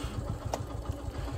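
A motorcycle engine running on a travel ride, a steady low throbbing pulse at close range with no talk.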